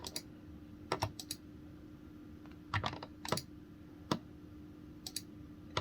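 Computer mouse buttons and keys clicking while a user works in Daz Studio, with sharp, faint, irregular clicks arriving in small bursts over a quiet room hum.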